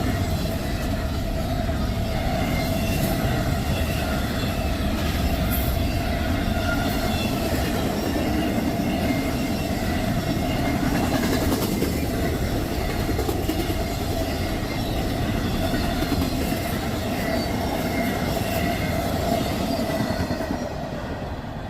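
A train rolls steadily past on the tracks in Ohio, a loud continuous rumble with rhythmic wheel clatter and a faint metallic tone lasting the whole stretch, with no voices.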